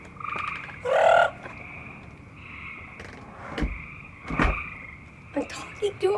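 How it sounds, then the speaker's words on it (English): Outdoor frogs croak in short scattered bursts, one louder call standing out near the start, with faint voices and rustling in the background. "But Mary found some frogs and she wants to show you."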